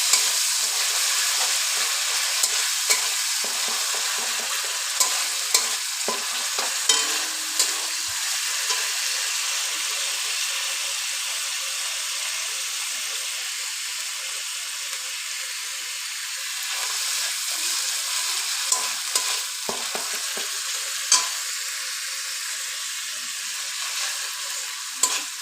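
Onion paste and garlic paste fry in oil in a pan for tel potol, giving a dense, continuous bright sizzle with scattered clicks and scrapes from stirring throughout.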